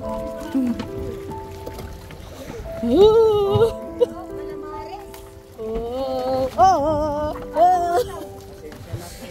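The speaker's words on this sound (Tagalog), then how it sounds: "Kasi magkalaki yung alon." Choppy sea water splashes and sloshes around a small boat in Honda Bay, Puerto Princesa, a low watery wash beneath people talking on board.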